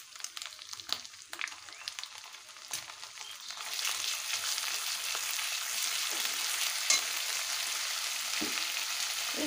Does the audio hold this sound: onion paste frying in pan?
yes